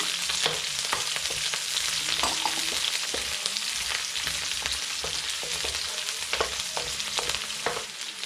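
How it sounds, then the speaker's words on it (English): Garlic and onion sizzle and fry in a pan for Filipino pancit noodles, a steady close crackle broken by frequent scraping clicks of stirring. "garlic and the onion. Just saute it until it's brownish."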